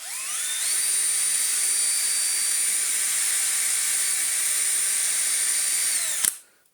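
An Electrolux Z1910 self-propelled vacuum motor spins up after a bearing rebuild, a loud, steady high-pitched whine that climbs quickly in pitch, holds for several seconds, then cuts off abruptly and winds down.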